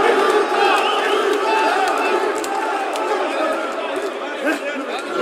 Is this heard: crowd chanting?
yes